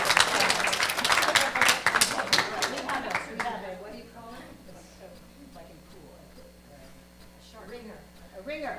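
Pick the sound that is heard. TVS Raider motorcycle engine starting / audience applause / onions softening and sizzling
audience applause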